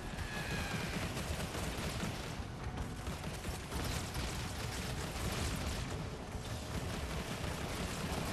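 Dense, continuous gunfire and explosions from a base under attack in Halo Wars 2, a loud, unbroken wall of battle noise with no clear pauses.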